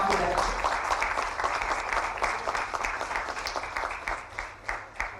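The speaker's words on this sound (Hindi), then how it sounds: "तालियां जोरदार हम आपकी तरफ" Loud, sustained applause from a large audience fills an official government ceremony where appointment letters are handed out to sportspeople, the clapping steady and dense before gradually thinning toward the end.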